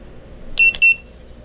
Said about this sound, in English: It's got a little beep that you can turn on or off.